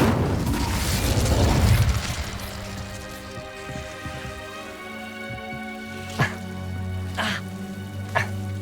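Incendio fire spell cast in Hogwarts Legacy, opening with a loud rushing whoosh of flame that fades after about two seconds, leaving a tonal ambient bed with a few sharp impacts later.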